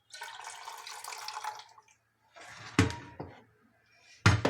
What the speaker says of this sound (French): Et verser immédiatement votre eau.